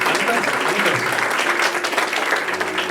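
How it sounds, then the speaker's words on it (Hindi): A church congregation claps hands during a Hindi worship service, a loud continuous wash of clapping with some voices and faint music underneath throughout. "अगर करा अपने अंदर तो अपनी ताली बजाकर करो ना"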